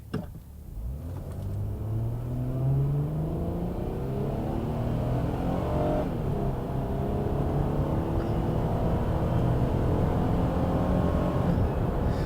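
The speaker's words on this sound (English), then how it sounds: "the sound of the engine and the way it puts its power down is nice" A third-generation Honda Odyssey minivan engine revs up and accelerates steadily, its tone climbing through the gears in a continuous droning rumble, heard from inside the vehicle.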